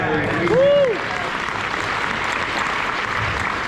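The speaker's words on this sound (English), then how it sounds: "You gotta clap for Discovery Day." An audience at a Disney Imagineering presentation breaks into steady, dense applause that fills the room, with a voice briefly heard near the start before the clapping continues.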